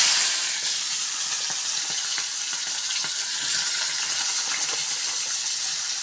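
Cut tomato, green chilli and onion go into hot oil in a pan where small fish were fried, giving a steady, close sizzle and hiss with faint crackles throughout and no talk.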